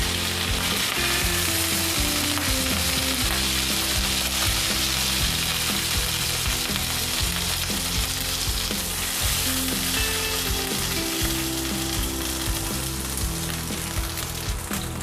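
Pork liver frying in a pan for menudo, a loud, dense sizzle that crackles on without pause at close range for the whole stretch, with no voices.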